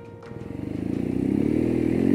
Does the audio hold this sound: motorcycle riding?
yes